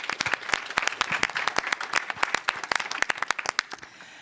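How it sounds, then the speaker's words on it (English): Applause at the online grand finale of a Tilburg University startup challenge: a small group clapping in distinct, sharp, close claps that thin out toward the end and stop, with no talking. "Big round of applause"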